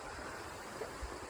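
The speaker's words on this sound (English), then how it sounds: "There's a Neshannock Creek down there." Neshannock Creek in New Castle, Pennsylvania flows below a riverside walking path, giving a steady, soft, even rush of water with no voices.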